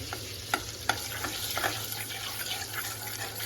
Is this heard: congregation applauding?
no